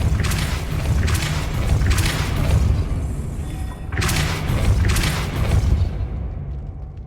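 The Depulso spell cast in the video game Hogwarts Legacy, heard as repeated heavy booming thumps and whooshing blasts in loud bursts over a constant rumbling game background.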